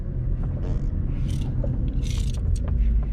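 A 2015 Chevrolet Camaro engine downshifts in a low, steady rumble with slight rises in pitch and a few faint mechanical clicks and rattles.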